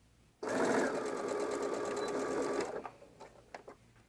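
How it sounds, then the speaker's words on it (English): A sewing machine stitching the edge of a fabric pouch at a 1/4-inch seam allowance, one loud continuous whir of about two seconds that stops abruptly, followed by a few faint clicks and handling noises. "we'll be sewing that edge using 1/4 inch seam allowance"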